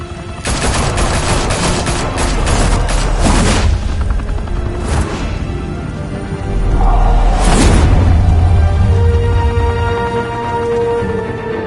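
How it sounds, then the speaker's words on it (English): Gunfire crackles in a Batman video game, with loud bursts of rapid automatic fire and heavy booms, followed by an explosive rumble and a whoosh. No one speaks. "Open fire!"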